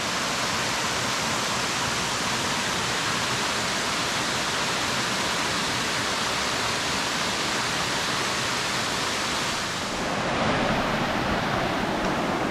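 A mountain stream rushes loudly close by as a steady, dense roar of water that holds at the same level throughout and shifts slightly in tone near the end.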